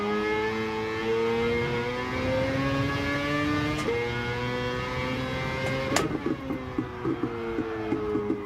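A Lexus LFA sports car engine in Gran Turismo 7 revs steadily with a rising tone, shifts near the middle, then settles into a fluttering idle with short blips toward the end, moderately loud and alone.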